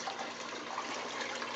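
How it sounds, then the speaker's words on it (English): Rainwater runs off a greenhouse roof into rain barrels, a soft, steady splashing gush that is continuous and fairly quiet, with no voices. "Here's the rain barrels collecting water from the roof"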